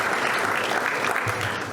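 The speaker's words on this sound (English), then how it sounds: "we'd like to give them a big round of applause right now to thank them" Guests at the Ireland-U.S. Council's annual dinner give the sponsors a round of applause, a steady wash of clapping from a room of people, moderately loud and unbroken for its short length.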